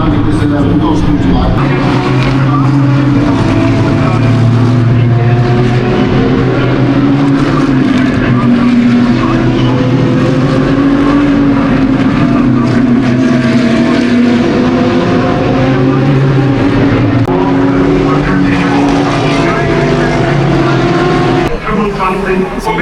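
BMW and Porsche race cars compete on a track in Germany, their engines a loud continuous droning roar with shifting pitch throughout, while a voice talks over them.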